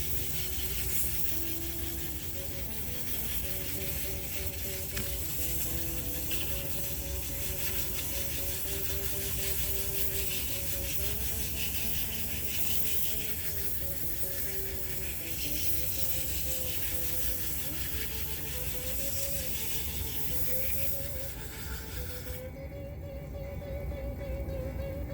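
Sandpaper rubs against a limba wood bowl spinning on a lathe, a continuous loud hiss and rasp over the motor's steady hum throughout, with no talking.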